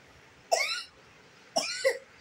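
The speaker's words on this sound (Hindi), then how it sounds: "खांसी हो रही है?" Two sharp coughs, close and fairly quiet, about a second apart, the second one with a short double burst.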